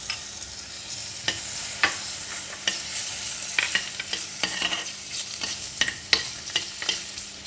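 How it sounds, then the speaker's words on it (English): Pork lard sizzles in a hot clay pot, a steady close frying hiss broken by frequent clicks and scrapes of stirring, with no voices. "And now I'm going to put in the pork lard."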